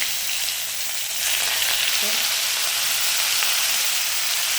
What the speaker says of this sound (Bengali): মাছগুলো এক এক করে ভালো করে সব উল্টে পাল্টে ভেজে নেবে লাল করে